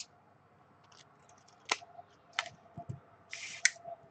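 Scissors cutting the edges of a paper snowflake for a handmade card, several sharp snips and faint paper rustles heard close and quiet, with short gaps between cuts.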